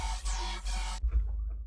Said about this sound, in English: And then we will just continue with another bass which I have heavily processed.